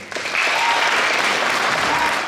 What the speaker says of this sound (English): That was when the applause was the loudest